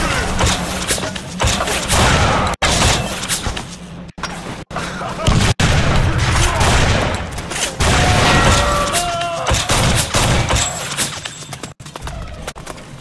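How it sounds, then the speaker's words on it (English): Gunfire and booms from a barrel being shot in the 50 Cent: Blood on the Sand video game, loud bursts and thumps with sharp dropouts, set against busy game music and effects, no talking. "Shoot the barrel, 50!"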